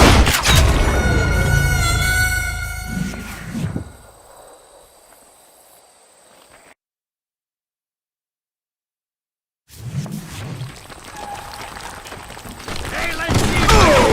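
Gunfire in the Western shooter Call of Juarez: Gunslinger crackles in a loud opening volley. The sound fades into quieter ambience, drops to complete silence, then returns with more shots and someone talking.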